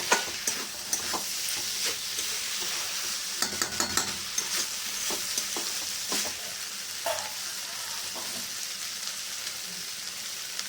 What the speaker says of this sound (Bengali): আর ঘি ছোটো চামচে একটুখানি ঘি দিলাম গ্যাসটা বাড়িয়ে দেবো ভালো করে একটু কষে নেবো আবার